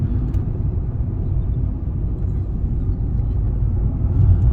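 A Fiat 500 1.2 driving on a cool morning, heard from inside as a steady low engine and road rumble with no talking.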